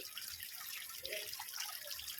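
Soft, steady trickling and splashing water from a small three-tier decorative foam waterfall, faint and continuous with no voices.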